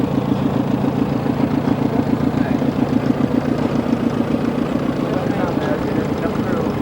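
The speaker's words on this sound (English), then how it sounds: "Here's a 1939 Minneapolis Moline R." A 1939 Minneapolis Moline R vintage tractor engine runs steadily at a threshermen's show, a close, continuous low chugging throb with a regular pulse and broad mechanical noise throughout.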